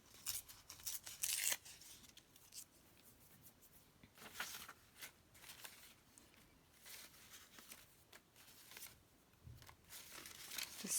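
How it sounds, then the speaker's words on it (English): Paper or a craft tag is torn by hand during journal making, giving a few quick, close, crisp rips among soft rustling and handling noises at low level. "Just tear this off"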